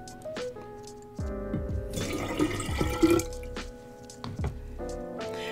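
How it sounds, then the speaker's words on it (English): Water pours from a container into a mason jar used for paint water, giving a close, gurgling trickle with splashes and bubbling that swell and fade in a few bursts, with no talking. "apologies in advance for pouring water noises"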